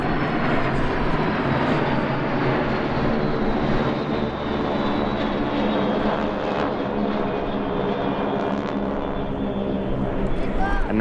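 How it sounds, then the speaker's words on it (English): L-39 and L-29 jet trainers flying at the EAA AirVenture Oshkosh airshow give a loud, steady jet roar throughout, with a narrator talking over it. "Now we see three L-39s with their predecessor, the L-29 that I mentioned earlier."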